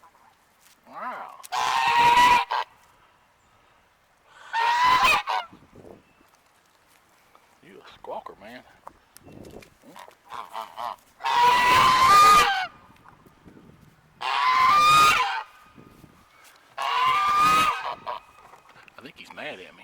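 An agitated goose honks in several loud, harsh bursts close by, each lasting a second or more with quiet gaps between, while someone talks to it.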